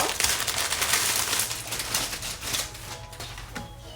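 A plastic-wrapped package holding a purple shirt is torn open close by, giving a dense run of crinkling, crackling rustles that fades slightly toward the end.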